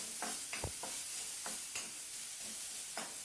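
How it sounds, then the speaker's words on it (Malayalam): A spoon stirs grated coconut with curry leaves in a pan. It sounds as a few soft scrapes and light sizzles over a steady faint hiss, quiet and close. "ഒന്ന് ചെറുതായി ഇളക്കി കൊടുക്കുന്നു."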